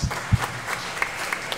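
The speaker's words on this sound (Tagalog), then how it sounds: "Palakpakan po natin ang ating mahal na patron na si San Antonio de Padua." Scattered, fairly faint clapping from a church congregation at a feast-day Mass for the patron saint Anthony of Padua, a few sharper claps standing out in a brief burst.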